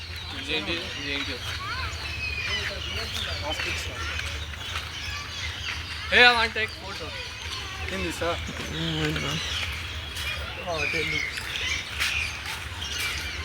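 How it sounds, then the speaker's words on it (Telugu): A white peacock in a zoo's bird section gives a few loud, harsh squawking calls outdoors over a steady background hum, with people talking nearby at intervals. "ఆ తెల్ల నెమలి వైట్ పికాక్ ఇన్ ఇంగ్లీష్"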